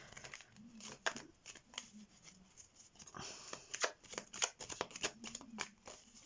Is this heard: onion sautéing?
no